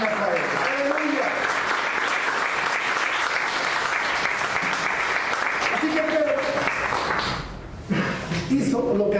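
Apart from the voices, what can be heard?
audience applause in church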